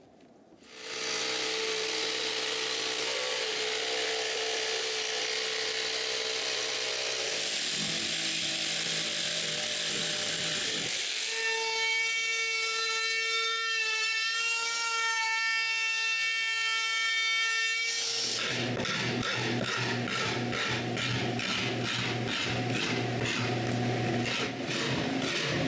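A power tool cuts an old snowmobile door into shape, whining loudly and steadily throughout as its pitch shifts in stages, first a high steady drone, then a wavering tone, then a pulsing buzz.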